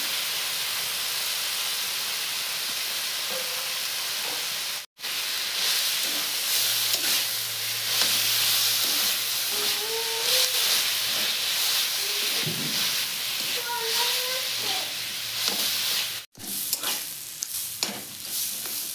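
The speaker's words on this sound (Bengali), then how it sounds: "ভাজা ভাজা করে দিচ্ছি, সিদ্ধ করে আলুটা দিয়ে দিচ্ছি।" Banana flower and boiled potato fry in a pan with a continuous close sizzle and hiss, broken by bursts of stirring and scraping, with no talk over it.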